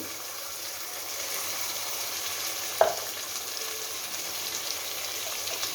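Carrot, potato and peas frying in a pan for coconut vegetable rice, a gentle continuous sizzle with one sharp clink of a utensil partway through, quiet and close, no voices.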